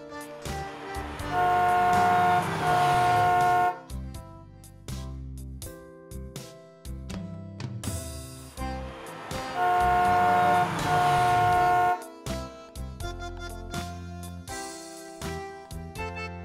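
A small Lightning McQueen toy car sounds its horn in two long toots, each about two seconds and repeated after a pause, loud above bouncy background music.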